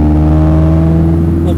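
A small, light Honda car with a VTEC engine revs hard at full throttle in first gear, giving a loud, steady, high-pitched engine drone close to the listener with no pause.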